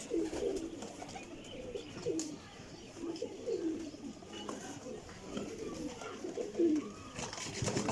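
Pigeons coo in repeated soft, low, throaty phrases, several birds overlapping at close range against quiet background noise.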